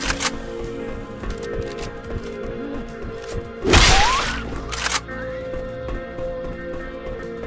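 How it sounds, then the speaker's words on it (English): Reloading a gun in Left 4 Dead 2: a brief burst of mechanical clatter and a thud around the middle, with a sharper click just after, set over a steady game ambience with no talking. "I'm reloading. Reloading."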